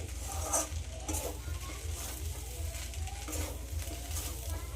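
Pasta with pasta masala stirred in a pan, soft sizzling under a steady rhythmic scrape-and-clack of the spoon against the metal, close and quiet.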